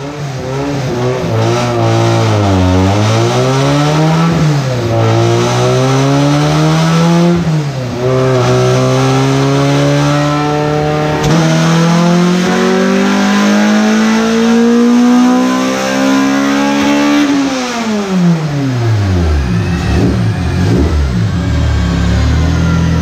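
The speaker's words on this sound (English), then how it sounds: "We'll be back with a horsepower pull." A loud LS V8 on a dyno during a horsepower pull revs up in long rising sweeps, drops back, then climbs steadily to a high peak before falling away, with no talk.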